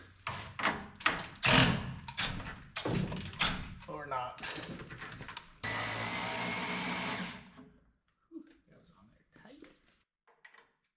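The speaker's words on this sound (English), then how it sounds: "Power tools to the rescue." Metallic clanks and knocks from working on a 4th-generation Cummins truck's loose steering, then a loud power tool whirs for a couple of seconds before quieter tinkering.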